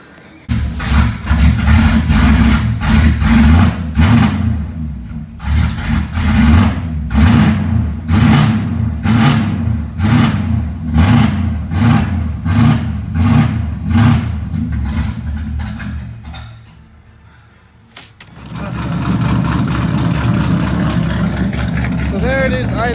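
A small block Chevy engine in a 350SX car revs in repeated bursts, then idles with a steady rumble after a brief near-silent dip, loud and close.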